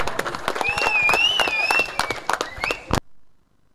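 Audience at a cricket tournament final clapping for Ajit Nikam, a burst of irregular hand claps with a whistle-like tone over it, fading out after about three seconds.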